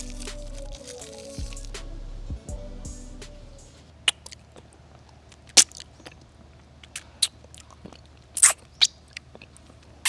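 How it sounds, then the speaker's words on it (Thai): Close, crisp crunching and clicking bursts of someone chewing hard candy, irregular sharp snaps over a quiet background, with a low hum early on. "นี้คือเสียงกินลูกอมนะครับ"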